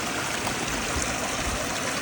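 A Montana mountain creek rushes along steadily, a close, continuous wash of flowing water with no pauses.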